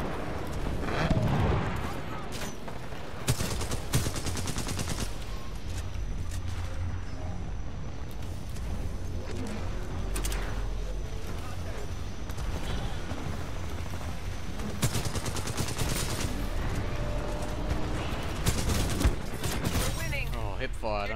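Hip-fired gunfire in Titanfall 2 rattles in dense bursts of rapid shots through a busy, rumbling battle, some volleys close and loud, and a player's voice talks over it.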